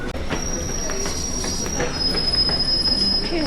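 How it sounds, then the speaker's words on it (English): London Underground train wheels squeal against the rails in a high, sustained metallic whine over a low rumbling roll as the train arrives, with no voices. "I think the train's there."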